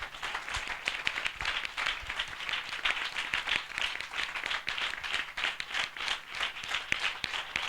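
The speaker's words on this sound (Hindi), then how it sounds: "हम जोरदार ताली से उनका स्वागत करें।" A church assembly audience gives a hearty round of applause in welcome, dense steady clapping from many hands filling the hall for several seconds without pause.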